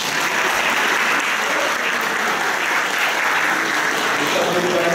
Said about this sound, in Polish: Jeszcze raz proszę o serdeczne brawa.